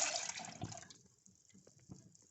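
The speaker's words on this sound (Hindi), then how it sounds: "ये सबसे पहले हम पैन में ये पल्प डालेंगे" Sweet potato pulp being poured into a cooking pan, giving a wet, splashing pour that is loudest at the start and trails off into soft gloopy drips and dribbles.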